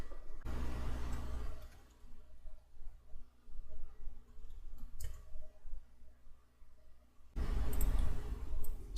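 A computer keyboard clicks with quick, light key presses of someone typing code, close and fairly quiet over a low background hum, with a denser burst of typing near the end.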